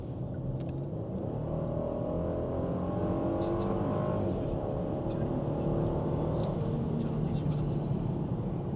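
A new V6 engine revving in sport mode, a steady rough drone with rising engine tones that stays loud throughout, a voice talking over it.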